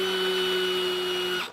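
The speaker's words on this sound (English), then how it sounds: "First of all, we're going to drill it." A power drill bores into a ball of ice with a steady high whine that holds evenly at close range, then cuts off abruptly at the end.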